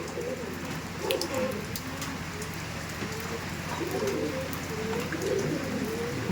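Andhra pigeons cooing as they are released, soft repeated coos over a steady rushing wash of noise, with flutters and faint voices in the background.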